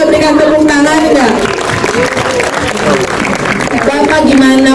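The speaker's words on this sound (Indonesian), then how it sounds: "Boleh kita berikan tepuk tangan nggak?" Audience applause at a film trailer press conference, dense clapping running throughout beneath loud voices and crowd chatter that stay prominent from start to finish.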